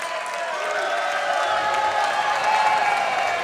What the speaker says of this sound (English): Crowd getting behind it here